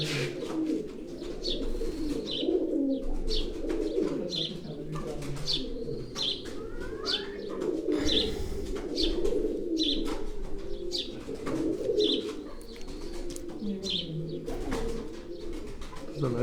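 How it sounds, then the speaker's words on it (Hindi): Racing pigeons in a loft coo repeatedly in soft, rhythmic bursts, with light chirps and occasional wing rustles mixed in, close and steady throughout. "ये भी आमिर भाई के घर का कबूतर है।"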